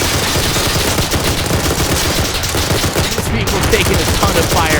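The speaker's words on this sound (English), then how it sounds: "Vehicle's taking a ton of fire." Dense gunfire rattles against a vehicle in the Arma 3 war game, a loud, unbroken barrage of rapid shots and impacts lasting throughout.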